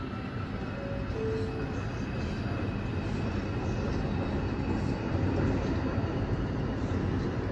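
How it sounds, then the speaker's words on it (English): Broadband rumble of a New York City R142 subway car on the 5 local line as it rolls steadily along the rails, a constant close roar with a brief faint squeal early on and no talk. "This is a Nereid Avenue bound 5 local train."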